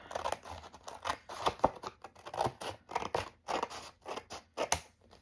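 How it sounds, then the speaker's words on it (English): Scissors cut through a piece of cardboard taken from the back of a book, giving a run of about a dozen crisp, close snips in an uneven rhythm, with no talking. "I've got this piece of cardboard here. It's off the back of a book. Just gonna trim this part off."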